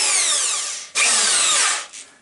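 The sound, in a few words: power drill with spade bit drilling wood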